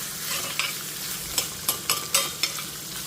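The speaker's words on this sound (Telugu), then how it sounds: "ఒక నిమిషం ఇలా వేయించుకొని మనం స్టవ్ ఆఫ్ చేసేద్దాం" Chutney ingredients fry in a pan on the stove with a soft continuous sizzle. Several sharp scraping stir strokes cut through it near the end. The sound is close and moderate, with no speech.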